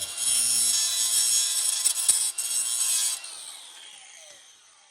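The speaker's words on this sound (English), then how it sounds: "don't be afraid to go at it with a cutting wheel if you're not able to get it any other way" A cutting wheel grinds through a sway bar end link on a 2009–2015 Honda Pilot during a suspension job, a close, shrill, high-pitched scream lasting about three seconds before spinning down and fading.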